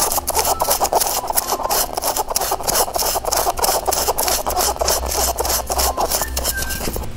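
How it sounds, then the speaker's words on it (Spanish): Wooden pieces for a rabbit-shaped candy holder rubbed with sandpaper, a close, continuous rasping scrape in quick back-and-forth strokes with no talk. "Igual con la lija hacemos esto."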